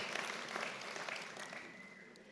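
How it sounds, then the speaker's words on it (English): An audience gives a round of applause at a university's 10-year celebration, a steady wash of many hands clapping at moderate distance, continuous throughout. "can we just also give just a round of applause to the MEC who gave us the address"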